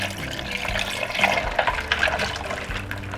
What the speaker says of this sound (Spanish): Vamos a agregarle un poco más de agua.